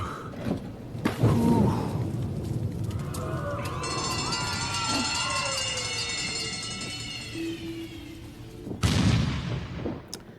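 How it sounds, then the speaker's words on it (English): Cannon fire in the VR game Wilson's Heart: a sharp boom opens, then a long stretch of game ambience with tonal, whistling effects, and a second loud blast near the end. "We do need fire to fire a cannon"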